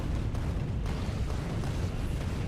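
Cannon shells exploding in Factorio, a continuous dense rumbling roar of overlapping blasts, loud and low without clear separation between hits.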